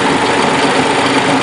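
Engine idling steadily while water decarbonization is run on it, a continuous even hum with no talk over it.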